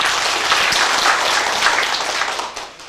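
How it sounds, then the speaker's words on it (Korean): Dense applause from the audience at a labour union branch chief's inauguration ceremony and general meeting. It is steady and full for most of its length, then thins and fades toward the end. "뜨거운 박수 부탁드리겠습니다."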